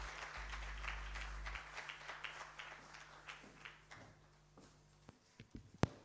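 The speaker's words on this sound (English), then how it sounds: "Let's give them another round of applause." An audience at an East African capital markets conference applauds faintly after a traditional dance performance, the scattered clapping fading away toward the end.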